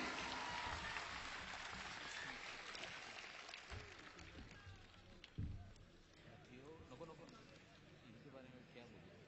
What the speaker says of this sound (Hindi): पुरजोर तालियों से इनका इस्तकबाल कीजिए।